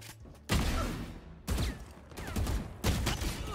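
Gunshots in a ranked video game match, several sharp bursts of gunfire in quick succession, loud and close over a quieter background of game sound.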